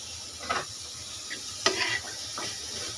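Lemon leaves fry in a pan with oil, giving a steady soft sizzle broken by a few brief stirring scrapes and clinks of a utensil.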